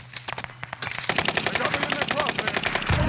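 Rapid automatic gunfire in a multiplayer shooter video game rattles in steady, fast bursts, loud and close, with a player talking faintly underneath.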